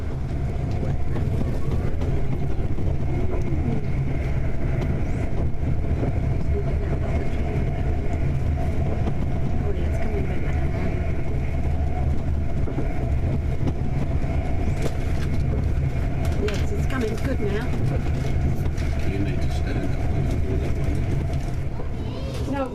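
Steady low rumble of a moving passenger train carriage between Cheddington and London Euston, continuous and even, with faint background voices.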